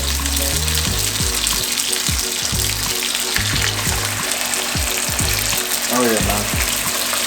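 Sliced steak sizzles loudly in a hot pan as pieces are laid in, with a steady broadband fry hiss and low thumps of meat being placed, someone briefly speaking over it.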